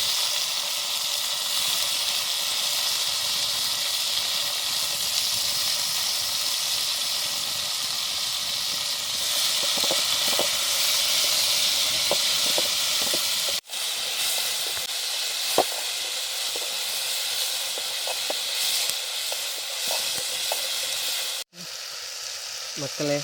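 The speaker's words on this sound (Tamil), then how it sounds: "தக்காளி வெங்காயம் சூப்பராக வதங்கிடுது" Tomatoes and onions sauté in a pan over a wood fire, giving a steady close sizzle and hiss with occasional scrapes and clicks of a spoon stirring, broken by two brief pauses.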